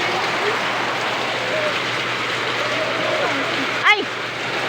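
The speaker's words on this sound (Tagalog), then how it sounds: "Sus guys, perting kusugas sa uwan sa amo dire on" Heavy rain roars steadily and loudly, with water overflowing a gutter, as a dense unbroken hiss throughout, while someone speaks over it and a short whistling sound cuts in near the end.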